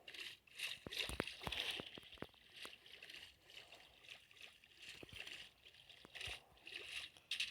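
A character swims through water in a survival video game, with repeated splashing strokes and sloshing water in an irregular rhythm at moderate loudness, and no talking.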